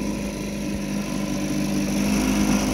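A 1984 Evinrude 4e 4 hp two-stroke outboard motor runs steadily at a constant throttle, a close, continuous buzzing drone with no pauses and no voices.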